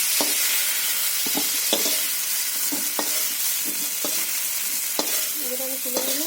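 Tomato and potato pieces sizzle in oil in a pan while a utensil stirs and scrapes them in repeated close clicks and knocks, over a steady frying hiss.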